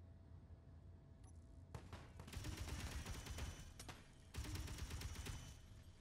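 Automatic turret fire aimed at the player in Space Engineers, rapid gunfire bursts of bullets arriving in two sustained volleys over a low rumbling background.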